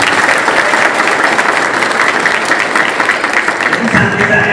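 Loud, dense crowd applause for the police at a religious gathering with West Java regional police, a steady roar of many hands clapping at once.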